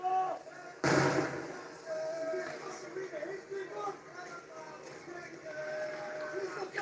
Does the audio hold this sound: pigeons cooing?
no